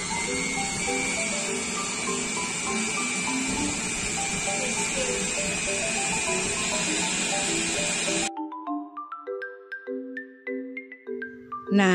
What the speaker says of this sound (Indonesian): Kemudian ini kita chopper sampai benar-benar halus.